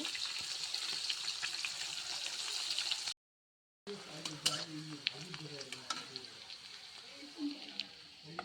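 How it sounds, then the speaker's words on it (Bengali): Fish frying in a home kitchen pan gives a steady, close sizzle with occasional stirring scrapes. The sound cuts out briefly, then the sizzling returns with a person talking over it. "এখন মাছ ভাজতেছি"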